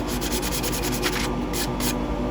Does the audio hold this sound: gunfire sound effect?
no